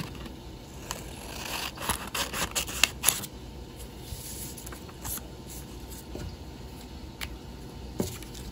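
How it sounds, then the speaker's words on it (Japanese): Quiet crisp snips and rustles of scissors cutting paper, a few sharp clicks among soft scraping, close up with no talking. "ではハサミで切ります。"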